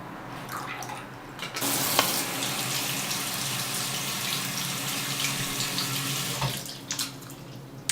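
Tap water runs steadily into a sink while a makeup brush is rinsed, a loud continuous splashing rush lasting several seconds before it shuts off, close and without talk.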